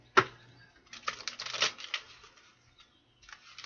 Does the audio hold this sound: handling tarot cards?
yes